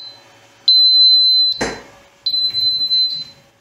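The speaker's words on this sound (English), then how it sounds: "You hit the alarm silence, the light will stay on, but the horn doesn't continue." A UL 508A control panel's alarm horn sounds for a drive fault, a shrill electronic tone that blares for about a second, breaks off after a sharp clatter, then sounds again, close and loud with no talk.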